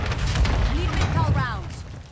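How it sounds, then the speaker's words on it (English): A mortar strike explodes in a video game as a dense, rumbling boom that fills the whole moment, with the low end rolling and sustained. Voices and a faint rising whistle sit on top of the blast. "mortar strike!"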